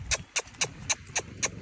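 A young mare trots during early breaking training in a round pen, her hooves clip-clopping in a steady, close, even rhythm of about six beats, with no voices over them.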